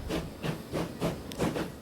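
A GWR steam locomotive in Transport Fever 2 chuffs in rhythmic, evenly spaced puffs of steam, close and fairly loud.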